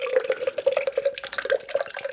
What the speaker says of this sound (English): So let's pour this in.